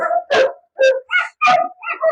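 A large male dog, a powerful guard breed, barks and howls in a rapid string of loud, close, harsh calls separated by brief pauses.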